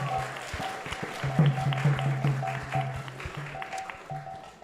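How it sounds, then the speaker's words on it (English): A gathered audience claps at an ISKCON temple program in Silicon Valley, a moderate, uneven patter of hands with steady tones ringing through the room beneath it. "So let's give a big round of applause to everyone who have joined today."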